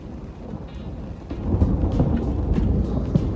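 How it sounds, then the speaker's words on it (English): Thunder rolls during a storm over a lake, heard from a camper, building from a low rumble into a louder, sustained roar with rain and faint crackles mixed in. "Oh, thunder!"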